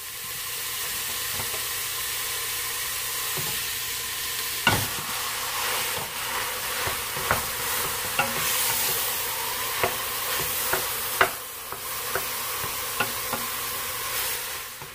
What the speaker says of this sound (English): I'm just going to add it right into my pot, break it apart, and brown it